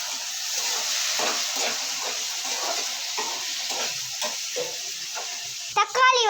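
Garlic and tomatoes sizzle steadily in a hot pan for a fish gravy, with the scrape of stirring over the frying; a brief voice cuts in at the end.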